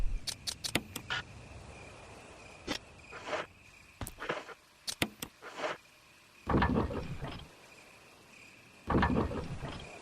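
A crank turns in Resident Evil Remastered, amid sharp metallic clicks and clanks that are scattered at first, then two longer grinding bursts, all fairly quiet and without talk.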